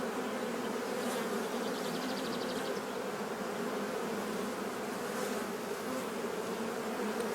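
Honeybees drone steadily around an amateur beekeeper's open hive during an inspection, a dense, even buzzing close by with occasional brief higher whines from passing bees.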